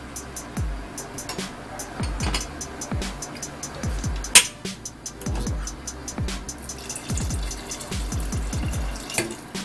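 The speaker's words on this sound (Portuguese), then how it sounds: "Podemos colocar mais um pouquinho de água." Water pouring into a pressure cooker of braised oxtail with watercress and potatoes, a loud, close trickling and splashing stream broken by repeated clanks and knocks of the pot.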